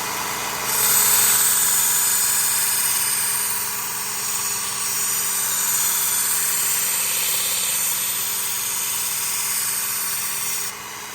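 Work Sharp Ken Onion Elite knife sharpener, switched on by a foot switch, running steadily while a knife is ground on its belt, giving a loud continuous motor whine with grinding hiss that holds for about ten seconds and then stops.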